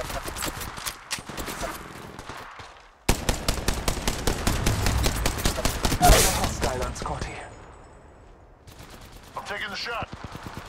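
Gunfire in the video game Apex Legends rattles in rapid automatic bursts and sharp single shots, loud and close, with pauses between volleys and no talk.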